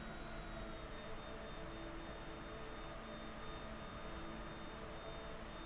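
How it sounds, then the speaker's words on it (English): Aircraft engine speeding up in Microsoft Flight Simulator 2020 on approach to Aspen-Pitkin County Airport, a faint, steady droning roar with a thin high whine and no talk. "So bringing the engine speed back up."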